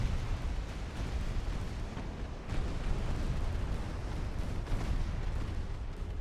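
Dense, continuous rumble of a warship battle in Ultimate Admiral: Dreadnoughts, with torpedo hits and explosions blurring into steady artillery-like booms and a few sharper blasts standing out.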